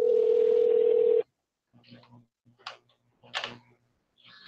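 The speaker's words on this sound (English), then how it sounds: "Yeah, I can hear it ringing." A phone call ringing over an internet connection: a steady electronic tone sounds alone for just over a second, then drops away to quiet gaps broken by faint voices talking.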